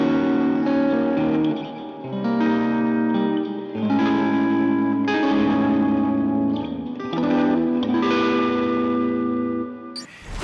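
Fender Stratocaster Deluxe electric guitar played through effects, heavy reverb and echo washing over a series of strummed, chorused chords, loud and up close.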